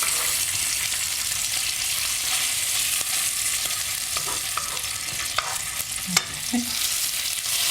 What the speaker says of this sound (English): You sort of you can see the bacon now is beautifully crisp.